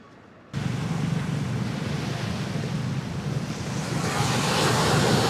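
Sea waves wash along a coast in Vietnam, a steady broad roar of surf that begins abruptly and swells slightly louder toward the end, with wind rushing over the microphone and no voices.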